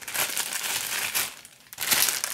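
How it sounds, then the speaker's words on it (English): Plastic wrap peeled off and an audio master clock unit pulled from its plastic bag, close crinkling and rustling in busy bursts with a short lull near the middle. "let me just peel off the plastic and take the unit out from the plastic bag"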